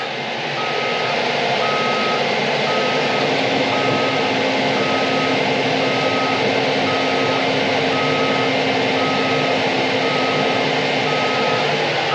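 A dozer is shifted into reverse and backs up, its loud diesel rumble running steadily under a repeating, evenly spaced reverse beep, with no talking.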